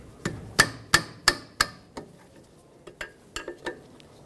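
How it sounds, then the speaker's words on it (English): A 10mm wrench breaks free the brake caliper slider pin bolt on a 2009-2011 Ford F-150 rear brake, giving a run of sharp metallic clanks and knocks, loud at first and then fainter and irregular, close with no talk. "Use a 10mm wrench or socket to break free this slider pin bolt."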